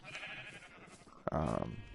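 A sheep bleats in a Minecraft sheep pen in a hardcore survival world, one short, loud, wavering bleat near the end after quieter background sounds.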